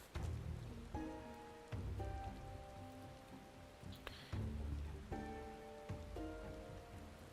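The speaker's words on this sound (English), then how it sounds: "Oh, everyone's getting soaked in the rain." Steady rain pours down in a Final Fantasy XIV game scene, a continuous hiss of falling water running alone beneath intermittent sustained musical tones.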